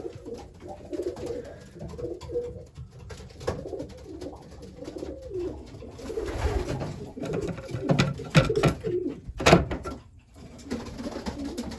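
A racing pigeon coos in the loft, soft repeated throaty warbles near and far, mixed with other pigeon calls, shuffling and a few louder flutters and knocks.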